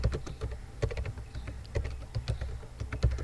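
Java code is typed on a computer keyboard in quick, irregular bursts of clicking keystrokes, close and clear, with no talking.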